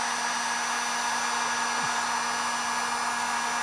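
A heat gun or torch roars steadily and close, a continuous blowing hiss, while burning colour-shifting chrome wrap on a Nissan 240SX drift car, with no voices over it.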